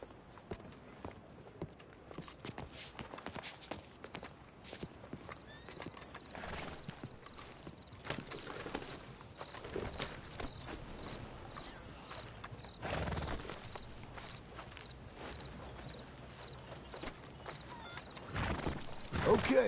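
Horse hooves clip-clop in a video game as riders set off together, a steady walking rhythm mixed with occasional whinnies and game sounds, mostly quiet and continuous.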